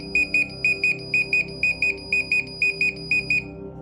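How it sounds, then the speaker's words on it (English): A LiPo battery charger's high electronic buzzer beeps in quick pairs when charging finishes, repeating steadily and loud over a low background hum, with no voices. "When the charging is done, the buzzer will sound and you'll see full on the display."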